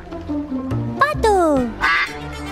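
A toy's duck-quack sound effect, bright quacking calls that sweep downward, sits among a child-oriented Spanish counting and naming session with voices and music around it.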